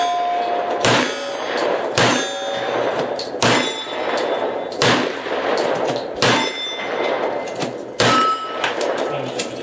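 Gunshots ring out at a steel plate shoot, each sharp crack followed by a metallic clang off the steel plates, roughly seven evenly spaced shots at a steady pace, loud and close.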